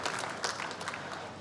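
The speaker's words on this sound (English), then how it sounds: "A round of applause." Audience applause at a car design event at IAA Mobility 2025, a dense, steady wash of many hands clapping at moderate distance, continuous through the short burst with no voices.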